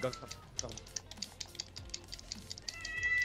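A cat meows briefly indoors over rapid keyboard typing and clicks, while people talk and laugh.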